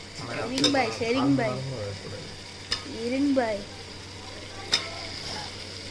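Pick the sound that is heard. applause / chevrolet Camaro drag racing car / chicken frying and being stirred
chicken frying and being stirred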